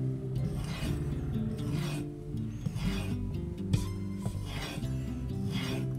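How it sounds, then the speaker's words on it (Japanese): Quiet, repeated rasping strokes of a white stick drawn along a kitchen knife edge to remove the burr, a soft rhythmic scrubbing over a low background hum. "とりあえず白棒バリ取りですな。"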